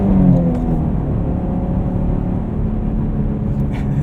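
A 2023 Chevrolet Camaro 1LT with a naturally aspirated 3.6L V6 and manual gearbox drones in a low, steady rumble from the cabin, its engine note holding fairly loud and even while driving.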